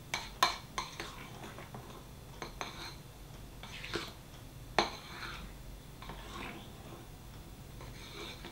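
Spoon stirring chocolate paste into marble cake batter in a bowl, giving a series of irregular clinks and scrapes against the bowl, close and moderately quiet, with no talking.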